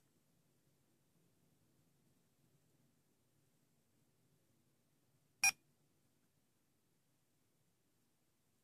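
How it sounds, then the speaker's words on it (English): A single short, sharp electronic beep from a talking atomic watch after its 10 o'clock button is held, cutting through near-silence with only a faint low background hum. "Now you heard that beep, we just have to wait a moment."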